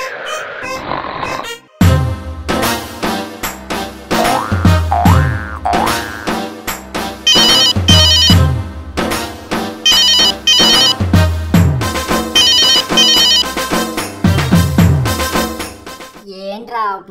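A cartoonish comedy phone ringtone plays loudly as a bouncy, boing-like electronic melody, its repeated tuneful phrases and bright chimes running for most of the stretch after a brief opening burst.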